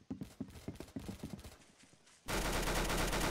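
A banana gun fires in the Roblox shooter Arsenal as a quick run of sharp, rhythmic shots, then gives way to a sudden loud, sustained burst of noise that holds to the end.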